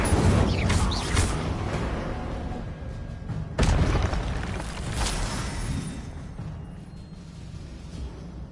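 A fire spell is cast in Hogwarts Legacy, a loud whooshing burst with a heavy boom partway through, the rumble and crackle trailing off afterward.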